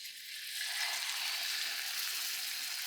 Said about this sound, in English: You hear that sizzle? That's what you're looking for